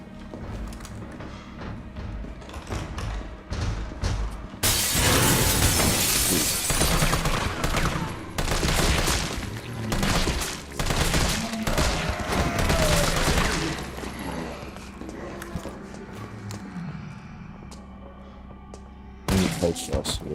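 Video game assault rifle fire comes in long, dense bursts that sound loud and close, with quieter stretches at the start and end, and a voice talks at points over the gunfire.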